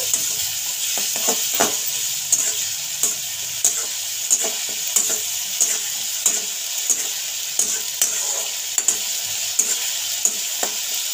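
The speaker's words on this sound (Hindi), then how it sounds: "अब हम ऐड करेंगे प्याज इसको मैंने बारीक काट लिया था अच्छे से फ्राई कर लेंगे" Finely chopped onions sizzle steadily in a hot pan while a utensil scrapes and stirs in an irregular rhythm of light clicks, up close, with no talking.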